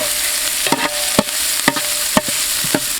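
Finely chopped onions frying with spices in hot sunflower oil, a steady close sizzle broken by regular scraping stirs of a spoon in the pan.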